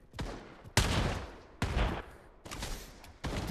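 Gunfire in the VR shooter Pavlov VR, with a few loud, abrupt shots and short volleys at irregular intervals, each trailing into a rumbling decay.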